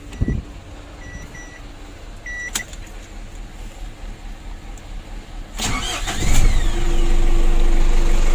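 A car engine starting after its starter motor was serviced: a few clicks and brief thumps, then the starter cranks and the engine catches, settling into a steady, louder idle hum.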